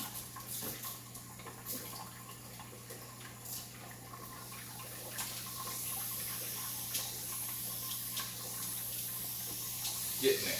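Water runs steadily from a garden hose as trapped air is purged, a faint, continuous hiss and trickle with small sputters, heard alone at low level.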